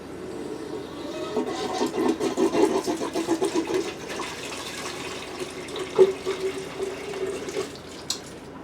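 Water rushes and gurgles into a newly installed hot water tank through shark bite fittings as the air is purged, a steady close flow with uneven sputtering surges and no talking.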